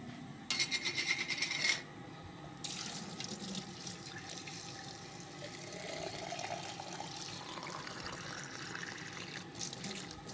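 Water pours from a tap or jug into a plant pot, a bright splashing gush for about a second followed by quieter running and trickling water in an indoor room.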